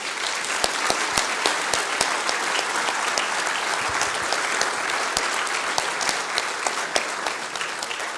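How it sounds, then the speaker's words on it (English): Sustained applause from an audience, dense clapping that stays steady and fairly loud throughout with a few sharper claps standing out. "So a quick round of applause for all the nominees"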